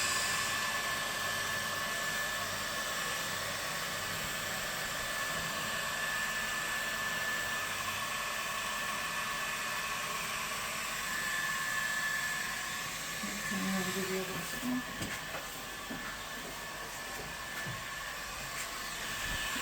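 A heat gun blows over a freshly poured epoxy resin tabletop, producing a steady, close, airy roar that holds almost unchanged for nearly twenty seconds, with a few light knocks near the end.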